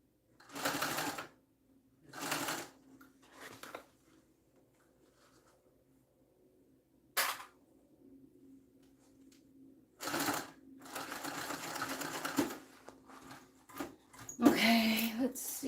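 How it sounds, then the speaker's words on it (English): A sewing machine stitches in short, close, rattling runs separated by quiet pauses, ending with a longer stretch of stitching; a voice speaks briefly in between. "Is anybody else sewing?"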